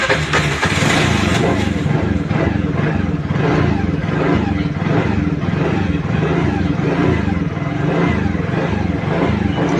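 A BS6 motorcycle with a starting and idling fault, self-started and left idling, putters in a steady, loud, close throb that runs on unbroken.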